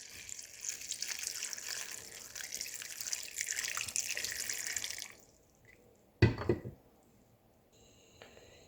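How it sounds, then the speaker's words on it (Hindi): About three cups of water pour steadily into a pot of aloo gosht curry for several seconds, then stop; a brief splash and clatter follow, then near quiet. "और अब इस स्टेज पे इसमें 3 कप के करीब पानी डाल दूंगी।"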